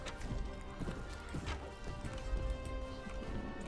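Horse hooves clopping at a gallop in Mount and Blade Warband, with the Prophesy of Pendor mod, during a castle assault, a steady rhythmic patter under dense battle noise and clashing.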